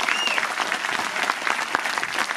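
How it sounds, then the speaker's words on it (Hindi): Audience applause at a Hindi poetry gathering, a dense, steady wash of many hands clapping loudly throughout. "एक बार तालियां जोर के होनी चाहिए।"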